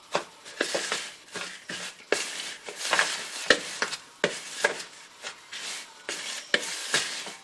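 Rolled oats and pancake batter stirred in a bowl, producing rhythmic scraping and rubbing strokes at close range, steady and fairly loud with no talk.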